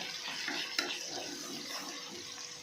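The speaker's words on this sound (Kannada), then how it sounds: "ಒಂದು ಅರ್ಧ ಸ್ಪೂನ್ ಶುಂಠಿ ಬೆಳ್ಳುಳ್ಳಿ ಪೇಸ್ಟ್ ಹಾಕ್ತಾಯಿದ್ದೀನಿ ಸ್ವಲ್ಪ ಫ್ರೈ ಆಗಲಿ" Ginger garlic paste fries in a pan for a quick raw mango pickle, giving a steady, even hiss of sizzling with one small knock partway through. No voices.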